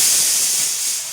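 Steady loud steam hiss from a stainless steel PNB pressure cooker with a faulty whistle, a continuous airy rush with no talk.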